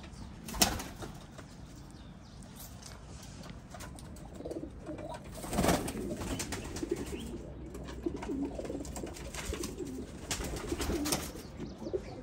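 Pakistani high flyer pigeons cooing in low, soft murmurs, mixed with a few wing flaps and rustling against a steady outdoor background in Marrakech, Morocco.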